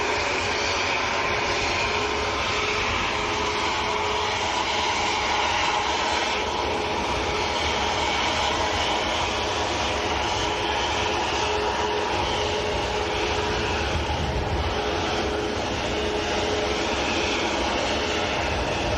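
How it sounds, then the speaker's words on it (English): An EasyJet airliner bound for Parma takes off at Manchester airport, its jet engines a loud, steady broadband roar that holds throughout with little change, heard from outside at a distance. "So that was EasyJet to Parma that's just taken off."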